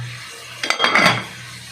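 A metal lid is set onto a cooking pot of simmering nilagang baboy with pechay, giving a short clattering clank and a brief metallic rattle over a low, steady stovetop hum.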